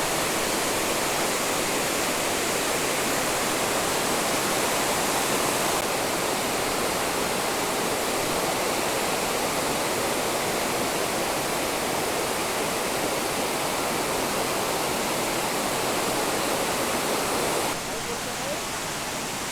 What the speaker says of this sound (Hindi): एंजॉय कीजिए इसकी मधुर संगीत, जो पानी के गिरने से आ रही है ध्वनि जो है।